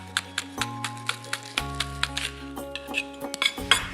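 Knife dicing spring onions on a chopping board, a fast string of sharp taps against the board over steady background music with sustained tones, close, with no talk.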